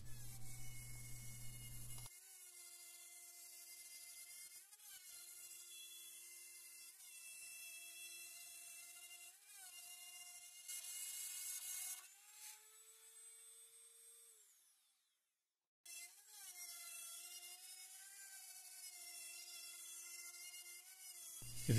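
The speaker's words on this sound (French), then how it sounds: "la fraise découpe le plexi" A router bit with a plastic guide ring cuts plexiglass along the edge of a wooden piece, a steady high whining drone that runs for long stretches, drops away briefly near the end, then resumes.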